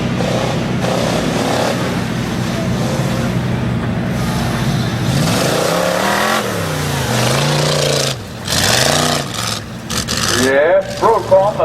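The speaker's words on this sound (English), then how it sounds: "Yes, Brokaw, the 96 Ranger. Comes flying around the course" 1996 Ford Ranger in a tough truck competition, racing around a rough dirt course, its engine revving and surging in rising and falling swells, partly under an announcer's commentary and crowd noise.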